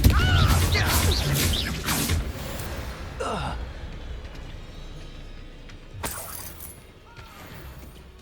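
Confringo fire-blast spells cast in the Hogwarts Legacy video game, several sharp bursts with crashing impacts, the first cluster rapid and loud, then a pause and another blast, with a voice shouting spell names.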